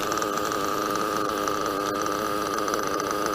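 Italian .21 nitro model engine runs at a steady high-pitched buzz, loud and close, with no talking.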